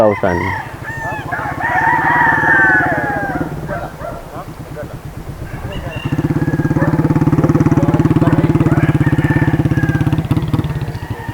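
A young gamefowl stag rooster crows repeatedly, loud and close, each call a rising then falling cock-a-doodle-doo, with a steady low mechanical hum underneath throughout.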